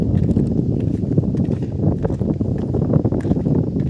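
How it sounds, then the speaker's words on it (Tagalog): Strong wind buffets the microphone outdoors, a dense steady low rumble with gusty surges that lasts the whole stretch and carries no speech. "Pasensya na, medyo malakas yung hangin."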